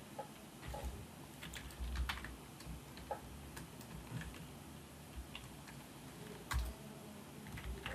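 Quiet typing of jQuery code on a computer keyboard, irregular clusters of soft key clicks with a few heavier thumps, close and alone without speech.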